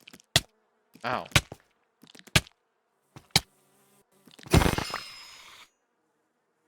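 Buzzing bees inside a hive of brood blocks in Minecraft: several short, close buzzing bursts spaced a second or so apart, then one longer, louder buzz, with a brief pained exclamation from a player.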